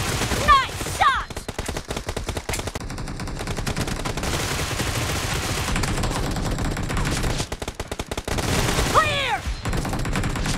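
Bursts of gunfire from the BGMI battle royale game crackle in rapid automatic volleys across the whole stretch, loud and close, with sharp single shots near the start and end.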